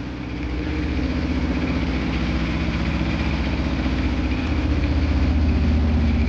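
Diesel engine idling with a clean exhaust, a steady close low rumble with rhythmic mechanical knocking that swells slightly louder after the first half second and holds even throughout, with no talking.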